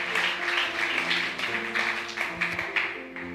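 A church congregation applauds, a steady wash of clapping that runs on for a few seconds while a low hum of sound continues underneath.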